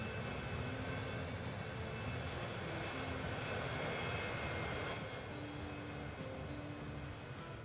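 A cargo airplane in the Transport Fever 2 game drones steadily with a continuous engine hum and broadband roar, constant in level throughout with no talk.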